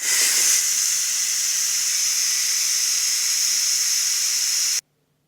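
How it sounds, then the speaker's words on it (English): An Instant Pot vent on quick release blows out steam in a loud, steady, close-up hiss that holds for several seconds and then cuts off abruptly into silence. "I'll do a quick release on the vent to let all the steam escape"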